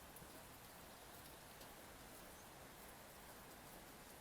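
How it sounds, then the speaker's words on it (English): Steady rain falls on a balcony on a rainy day, a dense even hiss with faint patters throughout, soft and continuous with no voices. "It's a rainy day today"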